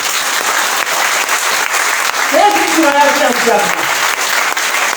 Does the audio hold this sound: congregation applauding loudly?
yes